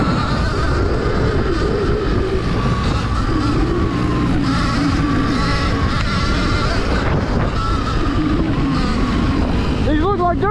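A Surron Ultra Bee electric dirt bike rips through open fields, its motor whine rising and falling under heavy, steady wind buffeting the microphone from start to finish.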